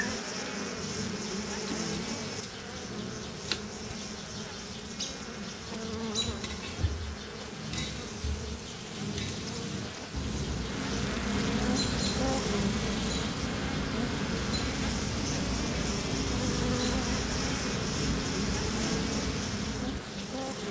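Honeybees buzz steadily around a caged queen on a hive frame, a dense continuous drone of many wings close by, with faint traffic noise in the background.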